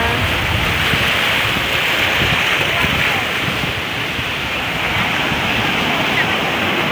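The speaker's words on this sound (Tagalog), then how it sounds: "Yung mga alon. Ang lakas ng alon dito" Heavy ocean surf at Abagatanen Beach roars continuously and loudly, a dense wash of strong crashing waves with no pauses.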